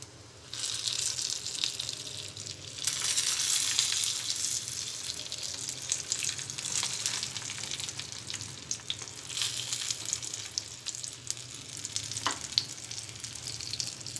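Small eggplants and cumin seeds hiss and sizzle in hot oil, a continuous watery frying noise with faint stirring scrapes and a few brief sharper spits, heard up close with no one talking.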